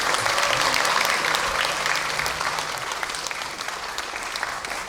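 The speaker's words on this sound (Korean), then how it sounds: "박수 한번 쳐주시겠습니까?" Sustained applause from a civic town-hall audience in Sejong fills the room, a dense steady clatter of many hands that slowly thins over about five seconds.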